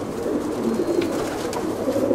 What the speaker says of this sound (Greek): κοιτάξτε κάτι περιστέρι